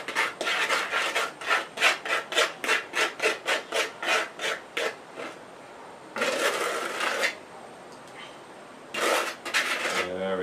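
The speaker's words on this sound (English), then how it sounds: "Sorry about the scraping noise." A tool rhythmically scrapes and rubs against the side of a container while spreading wet cement for a DIY base with wire mesh. The strokes are quick and repeated, then slow to a few longer scrapes, close and fairly loud.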